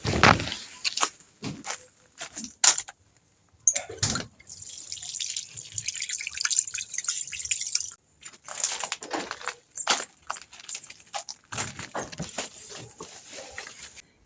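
Water splashes and trickles over a freshly picked mulberry in a small Jamaican garden, in short irregular bursts with brief dripping and quiet pauses, fairly faint and close.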